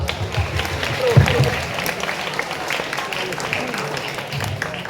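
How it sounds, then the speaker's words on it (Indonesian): Junior high school students clap together at a youth health programme session in Wonogiri, Indonesia: dense, steady applause mixed with chatter and voices throughout. "Oke, tepuk tangan dulu dong"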